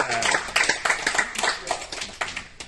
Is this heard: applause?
yes